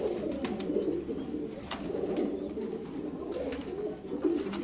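Pigeons coo continuously in a low, soft, throaty murmur, several birds overlapping at moderate distance with faint clicks and rustles.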